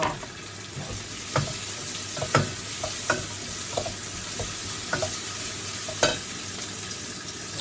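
Food sizzles and fries in a pan on a home stove, a steady bright crackle with scattered louder pops and occasional stirring scrapes, close up and continuous.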